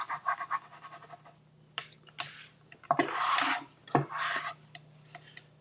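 A glued paper fold is rubbed flat with quick scratchy rasping strokes, close and fairly quiet, in short bursts with pauses between them over a faint steady hum.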